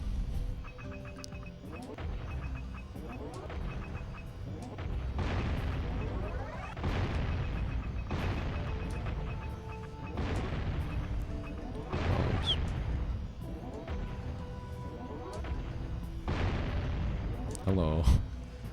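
Repeated booming blasts from boxes being shot in the Jak and Daxter video game during a Low Eco speedrun, a loud burst every couple of seconds over steady game music and background sound.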